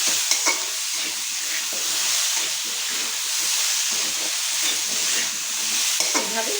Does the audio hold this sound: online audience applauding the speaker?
no